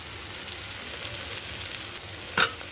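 Spices with Kashmiri chilli powder frying in a pan with a splash of water, giving a steady low sizzle with a brief louder hiss near the end; no one speaks.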